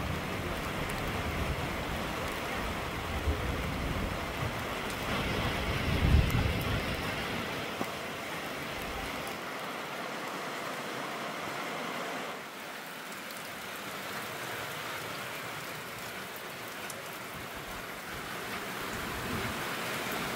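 Heavy rain pours down over houses in a steady, continuous hiss with a faint patter on surfaces, close and enveloping, with a brief low rumble partway through and no voices.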